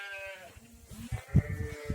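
Several sheep bleat close by as they are let out of a pen, overlapping wavering calls rising in a short burst against quiet shuffling.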